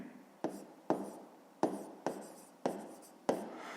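A pen writes on paper during a fifth-grade math lesson, with six soft scratchy strokes, each starting sharply and fading, in a steady rhythm. The sound is close and quiet, with no speech over it.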